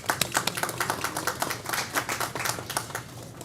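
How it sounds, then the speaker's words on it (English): A crowd at a county committee meeting claps for award recipients in a steady, dense patter of many hands, continuous applause filling the room without voices on top. "Big round of applause."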